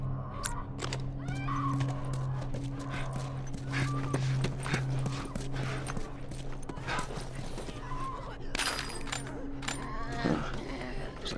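Hooves clip-clop and a horse whinnies in The Last of Us Remastered on PS5, amid a busy layered soundscape with constant background hum and scattered clanks.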